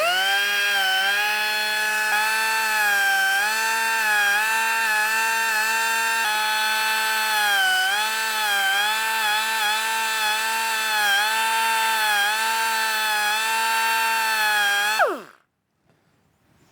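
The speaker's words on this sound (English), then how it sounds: "I'm switching from the 3/4 inch belt sander to the 1/4 inch belt sander" A 1/4 inch belt sander chamfering metal whines steadily at a constant high pitch for about fifteen seconds, then winds down abruptly and stops, with no voices.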